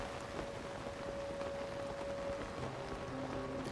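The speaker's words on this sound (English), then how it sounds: "Construct used Rain Dance." Rain from the Rain Dance move in a Pokémon video game, a steady even hiss of falling rain with a faint tonal hum and game tones underneath, no voices.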